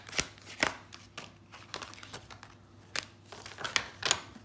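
Oracle cards being shuffled by hand, a series of soft papery riffles and flicks in uneven bursts, close and fairly quiet with short pauses between.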